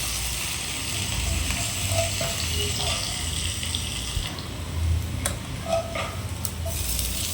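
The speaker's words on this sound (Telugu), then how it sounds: "రెడ్ కలర్ వచ్చినంత వరకు వేయించాలి." Ground masala sizzles and fries in a pan for a fish curry, a steady close crackle with occasional stirring scrapes and a voice speaking briefly.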